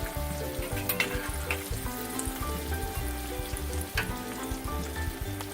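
Fried tuna cakes sizzle steadily in a pan, a dense crackling hiss with small pops, heard alongside background music.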